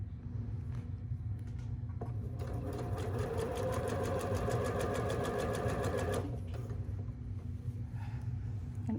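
Sewing machine running a steady straight stitch while a wrap neckline is attached, a fast even mechanical whir lasting a few seconds and stopping, with low background hum before and after.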